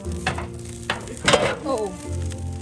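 Pork sizzles on a backyard grill during basting, with brief crackling bursts and scraping clatter mixed in, close and moderately loud over a couple of seconds.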